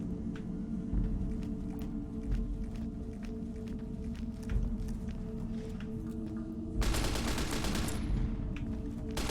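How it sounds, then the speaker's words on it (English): Gunfire in the video game Fallout: New Vegas: scattered distant shots popping over a low ambient hum, then a louder rapid burst of fire near the end, no talk. "That wasn't me shooting."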